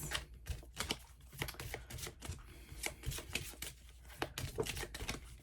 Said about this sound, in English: I'm shuffling this so we can divide them